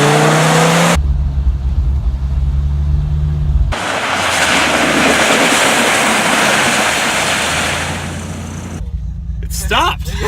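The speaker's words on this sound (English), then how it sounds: "getting this thing up to 30 miles an hour or so I can slam on the brakes" A 2017 Dodge Viper accelerates up to about 30 mph on a slippery road, its engine roaring loud and close under heavy road and wind noise, before hard braking brings it to a stop.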